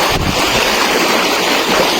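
Loud, steady rush of a strong, fast-flowing river current fills the clip, a dense roar with wind buffeting the microphone.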